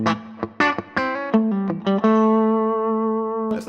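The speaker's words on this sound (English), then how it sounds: "the bridge pickup by itself sounds like this" Single notes on a Telecaster-style electric guitar using the bridge pickup alone, heard without other instruments. A quick run of plucked notes settles into one long sustained note that rings clearly before being cut off.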